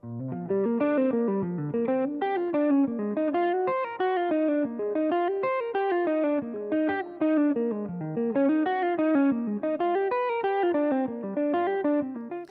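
An electric guitar with chorus and light distortion plays a continuous, even run of eighth notes, rising and falling through chord changes, alone and loud.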